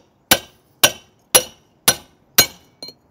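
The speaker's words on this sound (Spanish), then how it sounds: "Ya nos cruzamos con algunos alambrecitos de la malla. Los vamos cortando" Strands of wire mesh are cut by hammering while a gas flue for a water heater is being made. Five sharp, evenly spaced metallic strikes ring out close by, followed by a lighter sixth tap.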